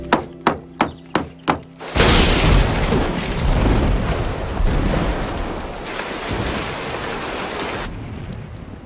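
Six sharp, evenly spaced knocks ring out, then a sudden heavy downpour drums steadily on a roof, loud and dense with a rumbling undertone, easing slightly before cutting off near the end.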